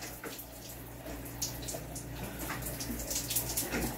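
A new shower runs, hissing continuously, a close, even spray with faint splashing fluctuations throughout.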